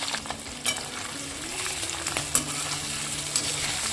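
Chillies and boiled potatoes frying in hot oil in a pan, a steady close sizzle with occasional sharp pops and light knocks from stirring, no speech.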